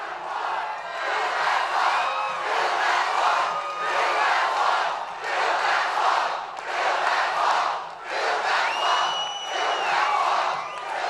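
A large campaign rally crowd cheering and roaring in repeated swelling waves, with whoops and shouts rising over a dense, loud mass of voices.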